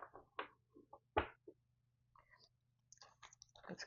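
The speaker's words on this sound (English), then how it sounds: "Let me get this one shuffle just to wake up the deck a bit" A tarot card deck is shuffled in a quiet room, producing a few soft, irregular clicks and riffling taps close by, with faint light rustles between them.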